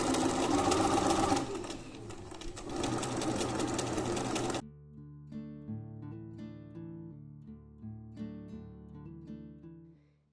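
A sewing machine stitches a French seam on a skirt with an elastic waistband, running in a loud, rapid mechanical whir for several seconds before stopping, after which quieter tonal music carries on alone.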